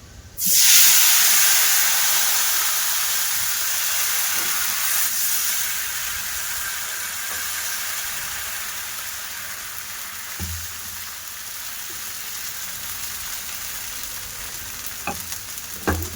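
Chakli pitha batter hits a hot frying pan and sizzles loudly, settling into a steady close hiss that fades slightly, with a few faint clinks near the end.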